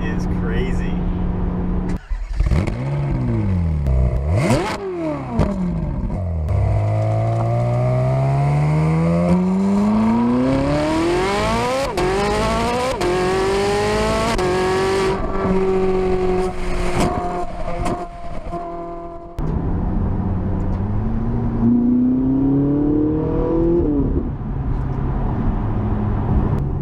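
A 2011 Ferrari 458 Italia with a V8 and quick-shifting seven-speed twin-clutch gearbox accelerates hard on a test drive, its loud engine note rising and falling through repeated upshifts and revs, sustained and close throughout.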